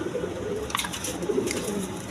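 Low, soft cooing from big colored Rajgola pigeons continues without a break, close and fairly quiet, with no voices over it.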